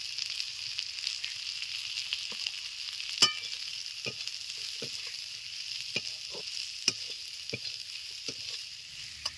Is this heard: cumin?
yes